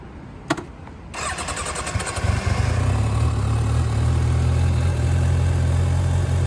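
A Kawasaki 636 motorcycle engine cranks briefly, then catches and settles into a loud, steady idle with deep rumbling exhaust, close by and with no speech.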